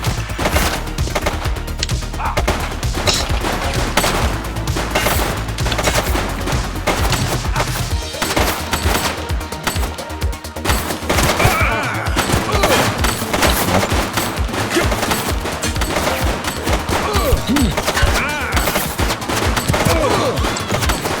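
Rapid gunfire in the police video game The Precinct crackles in dense, loud bursts almost without a break, with machine-gun rattles and overlapping shots.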